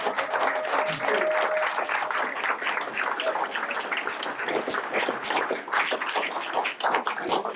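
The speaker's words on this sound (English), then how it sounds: "I would like to give one gigantic final round of applause" An audience applauding at a talk about compressor station health effects, loud dense clapping that runs throughout at a steady, close level, with faint voices mixed in.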